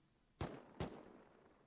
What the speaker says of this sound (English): I could hear a lot of explosions.